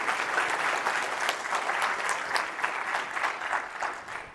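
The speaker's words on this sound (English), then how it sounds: "So if we could just do a really big round of applause for all of them." Big round of applause from a keynote audience at a JavaScript security conference, a dense, sustained wash of many hands clapping that tapers off slightly at the end.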